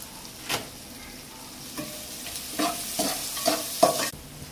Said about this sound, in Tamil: அடுத்தது தக்காளி போடுவோம் வதங்கிறதுக்காக